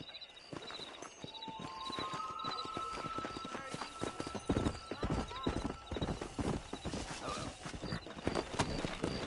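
Horse galloping in the Red Dead Redemption video game: steady, rapid clip-clop of hooves, close and continuous over a bed of game ambience, with a whinny and a few background tones.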